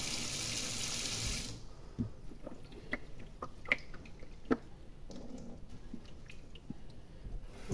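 Water runs from a tap into a sink while makeup brushes are rinsed, a loud steady rush for the first two seconds, then stops, leaving scattered clinks and drips.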